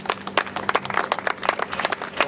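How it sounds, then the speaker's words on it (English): Outdoor spectators at a highway groundbreaking ceremony in Raleigh County give scattered applause. Individual sharp claps stand out in an uneven, moderately loud patter. "I know Jimmy's clapping"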